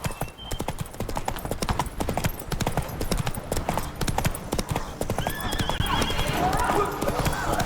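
Horse galloping in the video game The Witcher 3: rapid hoofbeat clip-clops, fairly close, with a neigh and game effects layered in and a voice speaking briefly.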